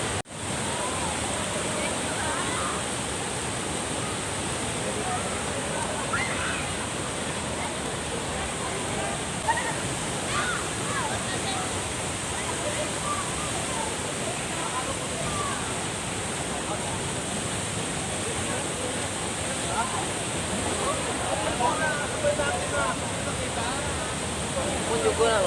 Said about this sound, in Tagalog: nandito kami ngayon sa Tuasan Falls